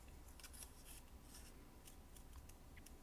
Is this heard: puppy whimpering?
no